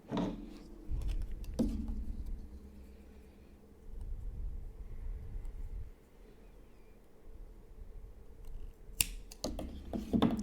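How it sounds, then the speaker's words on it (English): Scissors cut crochet yarn off a star-stitch bookmark, giving a few sharp, close snips near the start and again near the end, with quiet handling rustles in between. "So I'll just go ahead and start cutting the yarn off."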